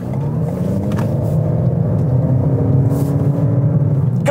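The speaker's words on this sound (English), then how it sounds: "God, I love that engine." A Toyota Corolla 2.0 hybrid Touring Sports pulls hard under acceleration, its engine note a steady low drone with rising harmonic tones building over several seconds, loud and continuous from inside the car.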